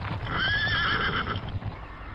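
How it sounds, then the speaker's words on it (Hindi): Horses whinny loudly with a rising-falling neigh over a steady clatter of hooves, several riders racing one another at speed, close and continuous with no talk. "अश्वारोही तेजी के साथ चले आ रहे थे।"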